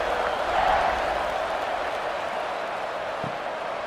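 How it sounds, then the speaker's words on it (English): Stadium crowd at a Houston vs Baylor college football game roaring at kickoff, a broad steady wash of distant cheering and applause. "They're set to kick it off, and this crowd now ready to get behind them."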